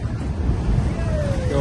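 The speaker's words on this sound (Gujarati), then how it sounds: "ત્યાં મોજો પણ આવે છે દરિયાની." Sea waves wash against the rocky shore at Bhadkeshwar near Dwarka in a steady, rushing roar, heavily mixed with wind buffeting the microphone.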